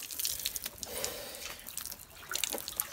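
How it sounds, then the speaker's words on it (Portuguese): Water drips and splashes after a bucket of water is thrown in someone's face, with irregular patters and trickles close by over a few seconds. "Ele joga o balde de água na cara."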